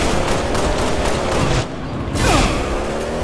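Dense, continuous gunfire and explosions from a Halo video game match fill the stretch, loud and close with a brief dip midway before the barrage resumes.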